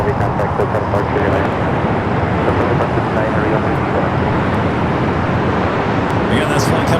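Airbus A350-900 jet at LAX airport, a steady, loud broadband engine roar holding constant throughout, with radio-style talk running over it.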